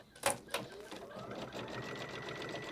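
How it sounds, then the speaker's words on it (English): An embroidery quilting machine makes a short run of stitches to tack a quilt border in place, a faint rapid stitching patter after a couple of sharp clicks, with a voice speaking in the background. "it's going to do a little stitch just down to here on each side to hold it in place"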